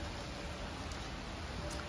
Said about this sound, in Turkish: Yağmur yağıyor da çok şiddetli.